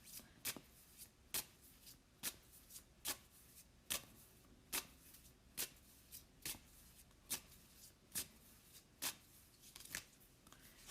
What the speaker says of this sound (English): I'm going to pull a couple cards, actually.